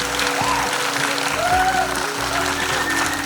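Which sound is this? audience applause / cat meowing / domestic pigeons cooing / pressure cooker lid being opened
audience applause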